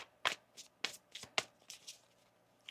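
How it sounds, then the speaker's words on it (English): A deck of tarot cards is shuffled by hand in a quiet room, several crisp riffling bursts in an uneven rhythm, close and fairly soft, with no talk. "One more shuffle"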